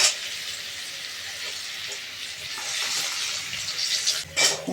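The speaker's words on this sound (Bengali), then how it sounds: "বসিয়েছি আমি আলু ভাজা, গোল গোল আলু ভাজা" Round potato slices frying in a pan of hot oil, a steady soft sizzle with occasional louder crackles and a stir near the end.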